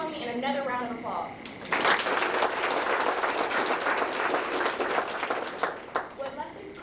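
An audience at an FFA award ceremony breaks into a dense, sustained round of applause for about five seconds, following a brief stretch of voices.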